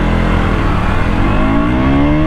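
A Yamaha R15 V4 and a KTM Duke 200 sit at the start of a drag race, their engines droning loud and steady at high revs with a rising pitch. No one speaks.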